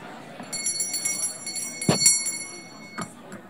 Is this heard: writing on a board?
no